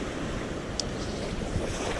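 Sea waves on a coast with fairly large swells, a continuous broad rush of surf mixed with wind buffeting the microphone, steady and unbroken, with no voices.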